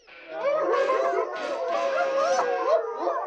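Cartoon dogs howl together in a long, loud, wavering chorus of overlapping voices that rises and falls without pause for several seconds.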